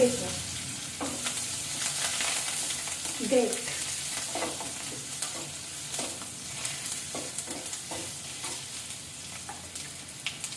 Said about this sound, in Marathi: ही छानसा तडतडू दे त्यानंतर आपण घालणार आहोत लसूण